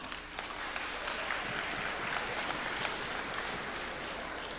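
Applause from a graduation audience at a college commencement ceremony, a steady wash of many hands clapping at moderate, fairly distant level with no voices over it.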